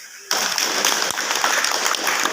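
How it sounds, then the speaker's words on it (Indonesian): A crowd claps at a parish youth Christmas committee gathering, a dense, steady burst that starts abruptly and holds at even volume for about two seconds with no pauses. "Oke, tepuk tangan dulu."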